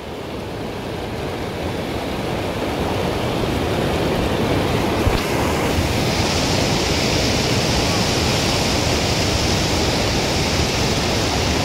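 A strong river current rushing past, a loud, dense, continuous roar of water that stays steady throughout with no voices over it.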